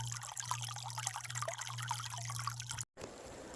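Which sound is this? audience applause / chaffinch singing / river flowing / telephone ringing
river flowing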